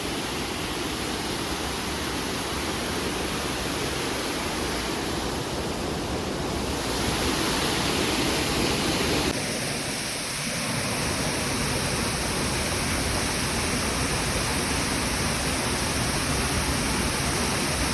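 Icy meltwater waterfall on the Manimahesh Kailash trek in the mountains roars in a loud, unbroken hiss close by, with a brief dip and shift in tone partway through and no voices.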